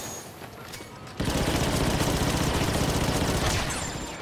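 Sustained blaster and gun fire from the Star Wars Battlefront 2 video game, a dense rapid fusillade that erupts loudly after a quieter opening second and keeps rattling steadily to the end.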